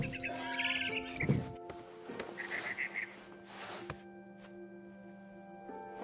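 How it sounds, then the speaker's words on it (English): A barn swallow in the video game What Remains of Edith Finch gives a few quick, thin chirps early on, fairly close, over a soft tonal musical background that continues after the calls fade. "Then I heard chirping outside my window. It was a barn swallow going back to her nest."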